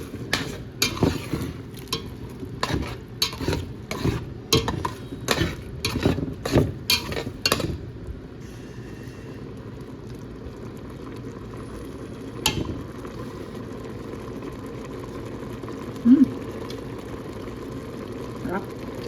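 Macaroni being stirred in a cooking pot for mac and cheese, with a run of rhythmic scraping strokes for about eight seconds, then a quieter simmer with a few isolated clinks and knocks.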